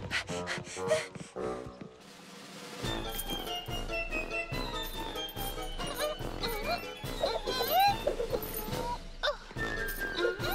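Futé, a cartoon dog in Charlotte aux Fraises, whimpers, snorts and yips while straining against its leash, with tag jingles mixed into the cartoon's background music.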